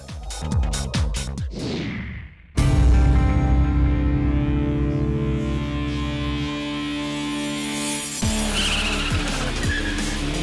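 Rally cars race at the Rallye du Chablais: a loud engine roars close by and holds a high revving drone, with tyre squeal and skidding, then another car passes and fades.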